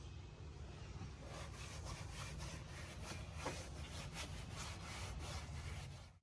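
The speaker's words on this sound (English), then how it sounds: "You're going to use this alcohol prep pad to wipe the location where you're going to put the pedal commander." An alcohol prep pad is rubbed across a spot inside a 2019 Jeep Wrangler JL, giving a continuous close, dry scrubbing sound that stays even from start to finish.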